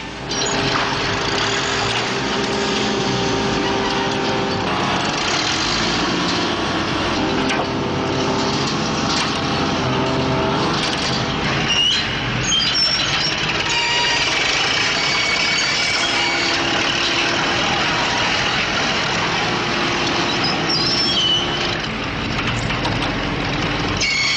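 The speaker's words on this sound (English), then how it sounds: "Using a 600 horsepower crane, could they lift the rock?" A 600-horsepower crane engine labours under load while trying to lift a heavy rock block, a loud continuous roar with grinding, creaking and crunching strains layered over it, close and unbroken throughout.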